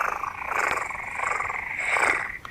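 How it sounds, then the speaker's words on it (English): A cat purring in a steady, rumbling rhythm with gentle rises and falls in intensity, close and continuous with no speech over it. "a purr is a cat's way of singing"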